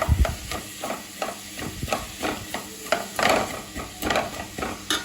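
Onions sautéing in a pan for masala dosa filling, stirred with repeated scraping strokes against the pan over a low sizzle, close and steady with rhythmic stirring knocks.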